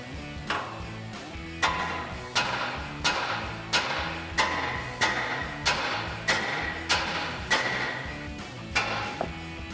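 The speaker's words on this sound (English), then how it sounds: "strike this side right here with a hammer to release this ball joint" Steady hammer blows on a Toyota Tacoma steering knuckle to free a ball joint, about a dozen sharp strikes at an even pace, close and loud with a ringing clank on each hit.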